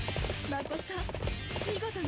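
In the video game Dynasty Warriors 8 Empires, a horse gallops with steady rhythmic hoofbeats amid dense battle noise, running continuously under a man's speech.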